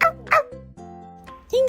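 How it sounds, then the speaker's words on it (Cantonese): Young puppy giving short high yips and whimpering cries in quick bursts, close and fairly loud, with brief pauses between calls and a faint tonal background hum. "發現原來聲音係由小狗發出㗎。"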